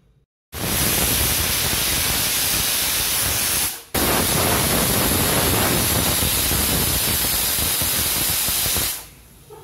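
A loud, continuous steam hiss bursts out, breaks off briefly, then resumes and fades, like a pressure cooker releasing its whistle while cooking sambar.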